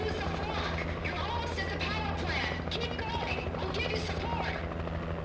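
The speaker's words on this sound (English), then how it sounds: "And here's my chopper." Helicopter rotor chop and engine drone from the video game Alan Wake, steady and continuous, with someone talking over it.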